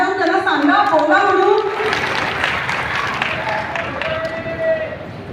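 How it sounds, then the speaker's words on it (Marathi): Loud applause from an audience at a Marathi cultural festival stage event, a broad burst of clapping and crowd noise that swells at the start and then carries on steadily under a speaking voice. "जोरदार टाळ्या"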